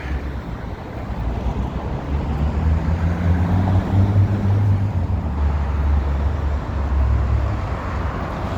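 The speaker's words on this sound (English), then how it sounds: "A 19 Bay bus passed by." A city bus passing on Bay Street in downtown Toronto in winter, a loud low engine rumble that swells and fades over several seconds amid steady roadway traffic noise, heard close with no talk.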